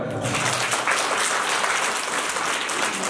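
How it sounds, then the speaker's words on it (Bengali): Loud, dense applause from a gathering at a youth day event at a math in Antpur, steady clapping throughout, near and sustained with no break. "ওদের জন্য একটা জোরে হাততালি"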